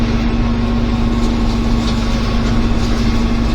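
A Renault Celtis tractor fitted with a hedge flail mower idles close by, a loud, steady low engine drone with a constant hum and no change in pace.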